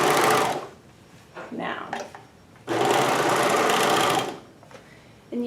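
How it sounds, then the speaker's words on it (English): A Juki MO1000 serger sewing machine stitching fabric, its fast steady whirring motor running loud and close in two long runs separated by a pause, with a voice speaking briefly in between. "if we put the foot in the down position, we are serging."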